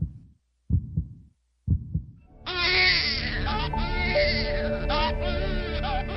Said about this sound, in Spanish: El primer llanto de un recién nacido es un reflejo para despejar sus vías respiratorias y respirar.